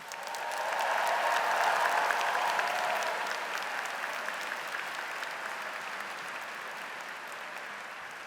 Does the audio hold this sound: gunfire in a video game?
no